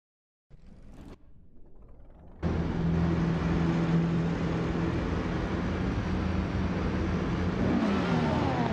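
A vintage 1960s race car at Road America, its engine starting faintly then surging into a loud, sustained droning roar that holds steady with rising pitch toward the end.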